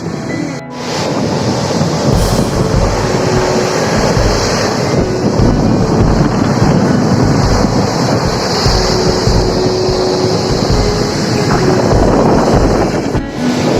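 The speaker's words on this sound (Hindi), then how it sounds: "इतनी तेज लहरें उठ रही है ना" Strong surf crashes continuously at Yucca Beach in Bujumbura, Burundi, with heavy wind buffeting the microphone; a loud, steady roar of breaking waves with no voices.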